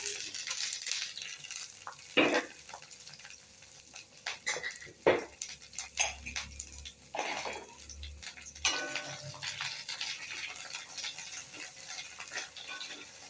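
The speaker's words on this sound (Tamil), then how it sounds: "முதல்ல எண்ணெய் ஊற்றி நம்ம முதல்ல இந்த பீன்ஸை வத வதக்கிடுவோம் நல்லா" Green beans sautéed in oil for an egg gravy, a steady sizzle running throughout with several sharper stirring scrapes and clanks of a spoon against the pan, no voices.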